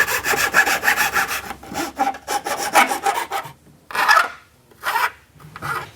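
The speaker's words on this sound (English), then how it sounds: "Okay, we just need a file." Hand file scraping metal on a part for a Dinan oil cooler mount being fitted to a BMW 1M, rapid rhythmic rasping strokes in bursts with short pauses, loud and close with no talking.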